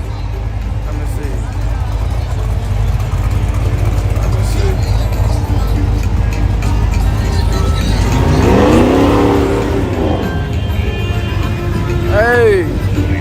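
A naturally aspirated drag car engine roars steadily and loudly throughout on a full drag pass, rising in pitch as it revs and accelerates, with people talking over the noise.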